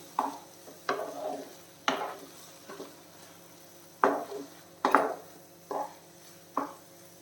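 Millet tomato rice being stirred in a pan with a spoon, giving about eight separate scraping strokes at an uneven pace over a soft background hiss, close and fairly quiet, with no talking.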